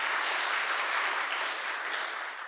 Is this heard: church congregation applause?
yes